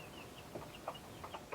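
Young chickens in a deep brooder make soft, scattered clucks and peeps over a steady low background hum, close by and fairly quiet.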